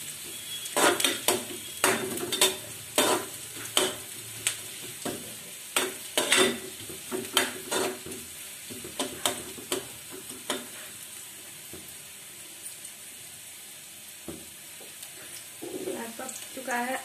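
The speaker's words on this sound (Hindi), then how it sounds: "प्याज के बाद हम इसको अच्छी तरह से पका लेते हैं।" Onions frying in a pan for savory dalia, stirred with regular, fairly loud scraping strokes over a hissing sizzle that continues more quietly once the stirring eases.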